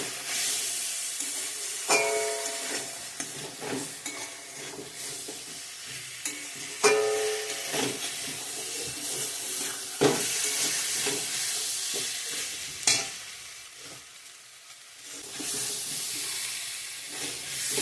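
Spice masala being sautéed in a pan for an egg curry: a continuous sizzle with intermittent scraping strokes of a spatula and a few sharper clanks, fairly close and steady throughout.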